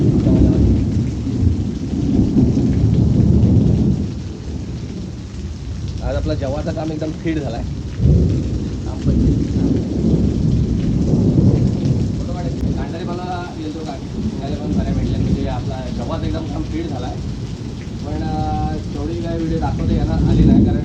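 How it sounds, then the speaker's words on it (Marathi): Steady heavy rain with rolling thunder throughout, while someone talks over the downpour. "आजच पाऊस लागलाय सकाळी सकाळी"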